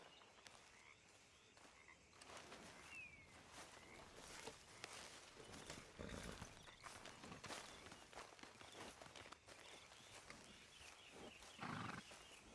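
Hooves of a horse walking in Red Dead Redemption 2, played quietly as a steady clip-clop over outdoor ambience, with frog croaks in the background.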